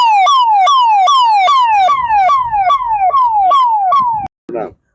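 A loud, close ambulance siren wails in a repeating rising-falling yelp about eight times on a badly damaged road between Dhoraji and Upleta, with faint rumble underneath and a brief burst of voices at the end.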